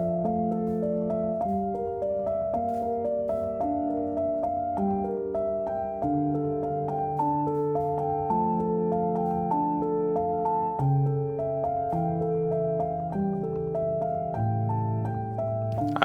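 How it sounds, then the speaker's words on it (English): An organ plays a stately, sophisticated melody over sustained chords, a steady legato line with held notes and soft resonance, continuous and unbroken with no voices. "I think it is an organ, isn't it? It's a type of organ."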